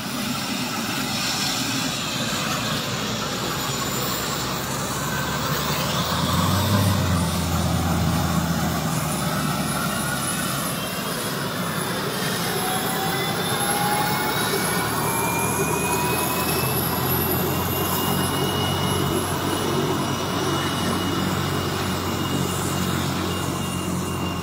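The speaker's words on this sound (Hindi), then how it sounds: "किस तरीके से जो हेलीकॉप्टर है वो अब यहाँ से उड़ान भरने वाला है" A helicopter takes off with a loud, sustained engine roar and a high turbine whine that swells slightly midway, steady from start to end with no speech.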